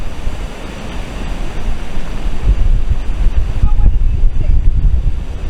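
Wind blows hard outdoors on a footpath in Steep, Hampshire, buffeting the microphone in heavy, uneven low gusts that grow stronger toward the end.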